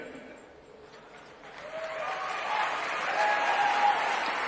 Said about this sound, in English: So, a lot of applause, a lot of very excited people.